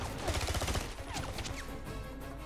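Rapid gunfire in the video game 007 Blood Stone comes as a quick burst of repeated shots, followed by scattered impacts and action effects, moderately loud.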